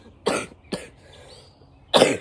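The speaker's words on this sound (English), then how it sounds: "Sorry for the cough." Three sharp coughs, close up, separated by short pauses, with the last one slightly heavier.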